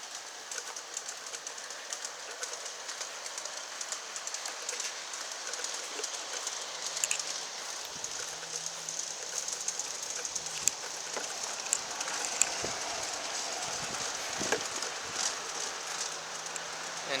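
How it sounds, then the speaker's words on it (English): Two G scale model trains running on an outdoor loop track, a steady light rattling clatter of wheels on rails with scattered sharper clicks and knocks, moderately distant and with no talking. "running some trains today"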